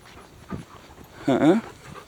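Puppies panting and giving a short whimpering whine close by, with a soft breathy pant at first and then a brief high whimper; a person speaks nearby.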